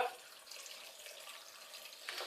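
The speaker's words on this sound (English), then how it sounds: "Fill it so that it's covering all the meat and the onions up in water." Tap water runs steadily into a cooking pot holding meat and onions for cow pie, a faint, continuous splashing gush with a brief louder surge near the end.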